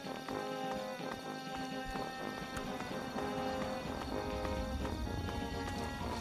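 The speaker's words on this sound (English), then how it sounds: "Do you hear his footsteps just coming behind me?" A creature's heavy footsteps in Fallout 3 approach from behind as rapid, hoof-like thuds, steady and fairly loud over a dense, constant game soundscape.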